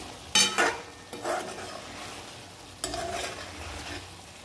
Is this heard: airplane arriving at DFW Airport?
no